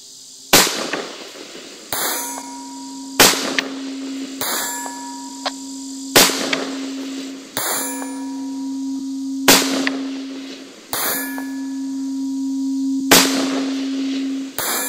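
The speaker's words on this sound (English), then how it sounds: "This 6mm bullet doesn't have a lot of energy, so we may not be able to hear impacts well from this range." Small 6mm rifle bullets strike targets at 1,000 yards, heard as about nine sharp cracks at irregular intervals, each followed by a ringing metallic clang that fades before the next.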